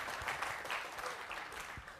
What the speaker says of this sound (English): Small round of applause, please.